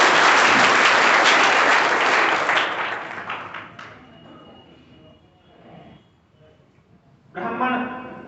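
Audience at a Brahmin community gathering in Khachrod claps loudly and densely for a few seconds, the applause fading out to quiet room noise before a voice begins speaking near the end.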